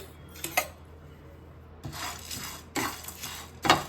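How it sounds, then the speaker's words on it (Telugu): Cardamom pods, cloves and cinnamon roast in a pan over a low flame: short scraping and rattling bursts of the whole spices being stirred, separated by quiet gaps, close up and with no talking. "యాలకులు లవంగాలు అలానే చెక్క అండి ఇంత తీసుకుంటే సరిపోతుంది ఇవన్నీ మనం లో ఫ్లేమ్లో పెట్టుకొని వేయించుకోవాలండి"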